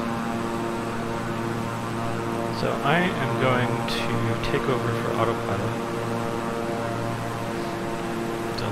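Twin turboprop engines of a Beechcraft 350i King Air in Microsoft Flight Simulator, a steady droning hum with layered tones in cruise, running unbroken beneath someone speaking briefly.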